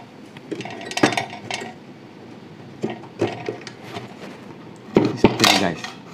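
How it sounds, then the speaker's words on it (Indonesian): Metal clicks and rattles come from adjusting the blade tilt on a JLD JD1853 circular saw, a few sharp clacks in irregular bursts heard up close with no speech. "Ini adalah pengaturan kemiringan mata pisau."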